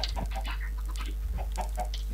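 Chickens cluck in the Minecraft video game: short clucks arrive in two quick bursts over a steady low hum, with no speech.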